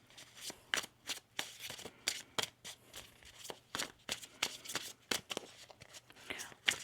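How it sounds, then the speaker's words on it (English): Tarot cards being shuffled, a soft, steady run of quick papery riffles and flicks repeating close by at low volume, with no voices over them. "One more shuffle here."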